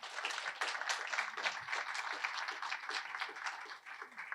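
An audience at a State of the City program applauds board and commission members with steady, fairly distant clapping that continues evenly before thinning near the end.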